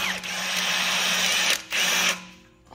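A power tool whirs steadily in a burst while tightening the wheel bearing on a 2014 Toyota Venza, pausing briefly once before spinning again and then winding down.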